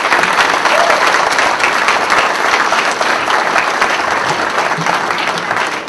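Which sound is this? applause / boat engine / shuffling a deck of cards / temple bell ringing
applause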